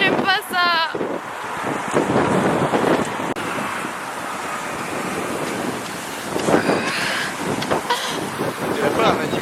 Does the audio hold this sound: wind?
yes